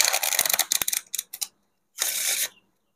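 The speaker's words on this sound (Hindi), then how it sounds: "ये फेस डाउन पैकेट है इसके साथ हम इसे शफल करेंगे" Playing cards being shuffled, face-up and face-down packets mixed together: a close burst of riffling clicks for about a second, two short flicks, then a longer steady riffle after a pause.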